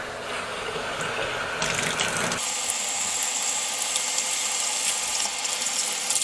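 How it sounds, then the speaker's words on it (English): Bathtub faucet turned on, water gushing steadily into the tub after a clogged drain was cleared with Drano; a brief mechanical click and rush at the start, then constant close splashing flow. "let's turn the water on"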